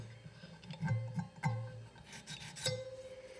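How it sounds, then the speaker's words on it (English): An extremely fine cylinder bore hone rubbed along the metal edge of a La Rosa jaw harp, giving short scraping strokes close up, with the harp's twangy ringing tones sounding between the strokes. "I've got a extremely fine cylinder bore hone here. We're just going to go rub on there."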